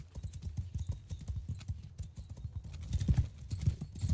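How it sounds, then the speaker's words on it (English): Horse hooves clip-clop at a steady trotting rhythm in the Mount & Blade II: Bannerlord video game, a quiet, even patter of soft hoofbeats with no talk over them. "Horse! Get moving!"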